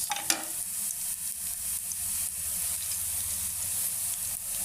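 Chopped onion and green chili frying in a pan after aubergine slices, a sharp utensil clatter at the start giving way to a steady, even sizzle.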